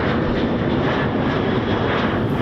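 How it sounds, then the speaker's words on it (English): A commercial airliner flies in on approach near Louisville's airport, a steady, loud, broadband engine roar that holds unbroken throughout with no voices. "could see every 5 minutes a plane flying in"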